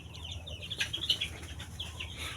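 Farm chickens cluck and flap their wings at close range in a village coop, busy and continuous with several overlapping calls and flutters above a low steady rumble.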